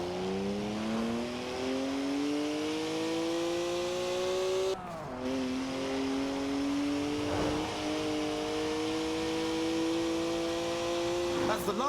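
A 3-litre twin-turbo straight-six with 335 horsepower revs in the Forza Horizon 4 racing game, its engine note climbing steadily through the gears with a short break at a gear change, loud and close.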